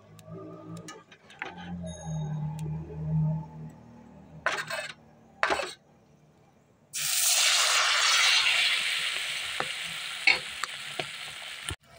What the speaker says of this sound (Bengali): আমি তিনটে তিনটে করেই ভাজবো